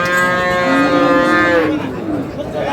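A bull or cow on a Dinajpur cattle farm lets out one long, loud, close moo that rises and falls, then fades, with faint chatter in the background.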